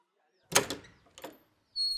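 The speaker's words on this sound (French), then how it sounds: "Au petit matin, la porte s'ouvrit et Zara eut la surprise de découvrir le visa" A door opens at dawn: a clear close clunk with a creaky swing, a second softer knock, and then a steady tonal hum near the end, with no talking.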